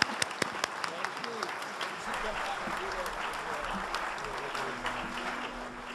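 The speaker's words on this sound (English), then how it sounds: "Let's give them a round of applause." Audience clapping for a string band at the 2019 Big Muddy Folk Festival, a steady mid-level wash of hands with a few sharp louder claps near the start and crowd murmur underneath.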